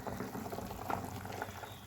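Mutton liver curry with eggplant, potato and ground paste simmers in a pot, giving a soft, close bubbling with small irregular pops throughout.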